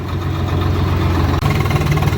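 A tractor engine idles steadily nearby, its low chugging rumble continuous and loud throughout.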